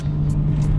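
Deep, steady engine drone from a 510bhp BMW M3 E36 on a night drive through a high street, a continuous low rumble filling the cabin briefly with no talk.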